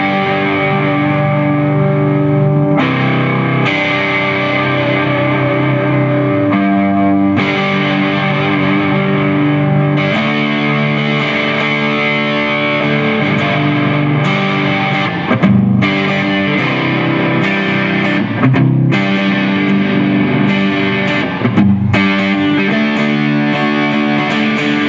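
Electric guitar played in the neck position strumming open chords through a CraigAmps Dual Drive, a boutique high gain pedal modelled on the Love Pedal Redhead, giving a loud, saturated, heavily distorted tone with steady chord changes and no talking.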